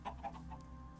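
Chickens in the video game Minecraft give a few short clucks in quick succession, close and moderately loud, with no talking.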